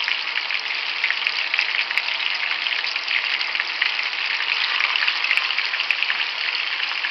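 Spiced minced-meat meatballs sizzle in a pan with a loud, steady, dense crackle that holds unbroken throughout.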